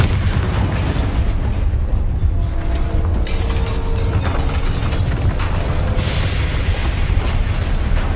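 A Bombarda spell blasts in the Hogwarts Legacy video game, bringing a dense, roaring explosion with crumbling debris and rumble that swells again toward the end, loud and continuous over the game's background sound.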